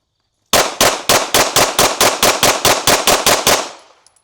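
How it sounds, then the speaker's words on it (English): A burst of about fourteen rapid, evenly spaced gunshots is fired into a target at close range, very loud and sharp, with a short echoing tail after the last shot and no speech. "I'm just gonna shoot a bunch of rounds into the center of this target here"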